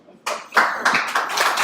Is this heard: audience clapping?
yes